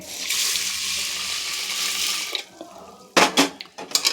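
Sago, poha, chana dal and fenugreek seeds washed in water for homemade dosa batter, a steady running-water wash from a tap, then sharp splashes and sloshes near the end, close and without talk.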